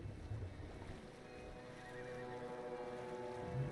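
Horses in the Red Dead Redemption 2 video game, near water, a faint neigh or whinny amid a low watery, splashing background, no talk.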